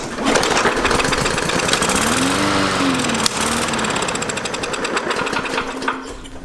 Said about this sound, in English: I'll give her a crank and see if she fires